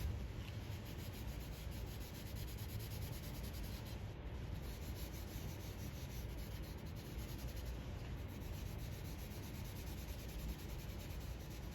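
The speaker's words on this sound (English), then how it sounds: "Now I want to do some blending." Pencil shading rubbed and blended on paper, a steady soft scratchy hiss that continues without pause, faint and close, with no voices.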